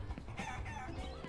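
Chickens cluck in a video game, with several short, overlapping clucks and hen calls close by over a dense background.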